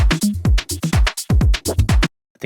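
A minimal house drum loop built from Splice samples runs as a dense, punchy pattern of kicks, clicks and percussive hits, close and loud for about two seconds before stopping abruptly.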